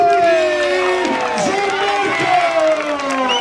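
Crowd cheering and applause for boxers at the end of a bout between Gianmarco Cimini and Gianluca Laudoni, a steady loud roar with whoops throughout, while a voice speaks over it.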